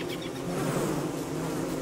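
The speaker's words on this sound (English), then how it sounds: "There's so many bees!" A swarm of bees buzzes in the survival video game Don't Starve Together, a dense steady drone lasting a couple of seconds with no talk over it.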